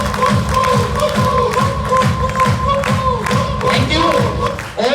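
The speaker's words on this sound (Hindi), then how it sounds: "जोरदार तालियां" Loud applause from a crowd at a motivational leadership talk, dense rhythmic clapping with cheers and shouts, steady throughout, and a voice briefly audible near the end.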